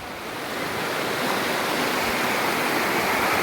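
Muddy floodwater rushing in with a strong current, a loud, continuous roar of water swelling slightly at the start and then holding steady without a break.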